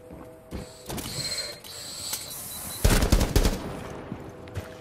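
Gunfire in Rainbow Six Siege during a chase, bursts of automatic shots crackling loudly and close, with a heavier cluster of rapid rounds partway through over a steady game background.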